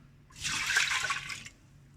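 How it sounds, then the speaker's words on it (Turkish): Water is poured into a pot of washed rice on a stove, a single smooth splashing pour lasting just over a second, close and clear, then cutting off to quiet. "Suyumuzu ilave edelim"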